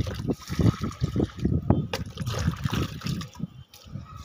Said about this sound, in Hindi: अब चलते हैं फटाफट से डालते हैं पानी।